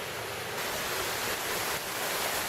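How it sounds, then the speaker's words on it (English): Steady, loud rush of a noisy mountain creek, Burn Creek on the Necklace Valley trail, heard up close as broadband churning water with no voices. "This is Burn Creek I'm crossing. A pretty noisy creek."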